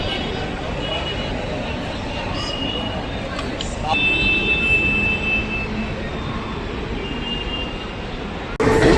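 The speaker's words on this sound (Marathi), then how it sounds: "अर्धा तास झाला वाट बघते लोकलची आणि लोकल आत्ता आली" A Mumbai local commuter train rumbles into Dadar station loudly with squealing wheels and a rising roar, while a crowd murmurs and a voice talks nearby.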